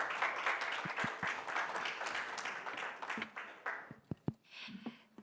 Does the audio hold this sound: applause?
yes